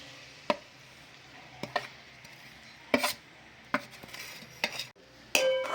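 Grated fresh turmeric roasting in ghee in a pan over a low flame, with a handful of sharp spoon scrapes and clinks against the pan spaced a second or so apart over a faint background.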